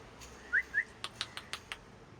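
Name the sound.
pet parrot calling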